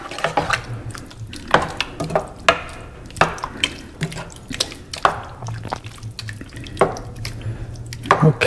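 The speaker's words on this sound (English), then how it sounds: "Let's get this one more stir." Camarones enchilados (shrimp in sauce) get stirred in a pan, giving wet, sloppy clicks and knocks of the utensil at an uneven pace, with a soft sizzle under faint background voice.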